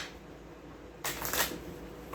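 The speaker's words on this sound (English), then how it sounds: "let me give it another shuffle" A deck of tarot cards is riffle-shuffled once, a short crisp burst of flicking card noise after a quiet moment, close and distinct.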